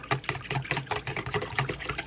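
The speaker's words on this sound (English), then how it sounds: "I like to go ahead and mix mine up inside a bowl" Cream of chicken and chicken broth are whisked together in a bowl, giving quick rhythmic wet sloshing and clinking strokes, close and moderately soft.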